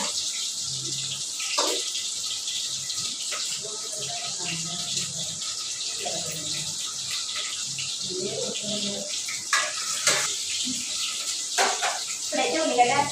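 Vegetables are rinsed under running water in a home kitchen while preparing mutton gravy curry and liver fry, with a steady tap stream and occasional splashes and clatter, and a voice talks now and then over it.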